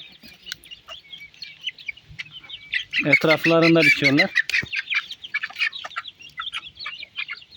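Gurk chickens and chicks cluck and chirp nearby in a busy, scattered chorus spread over a wide area, with one louder burst of calls midway and a voice speaking briefly.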